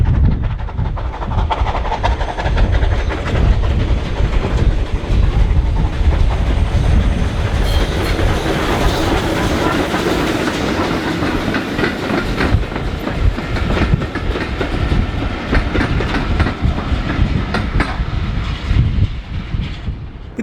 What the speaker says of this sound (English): 34070 Manston tackles the gradient out of Swanage with a train for Northern.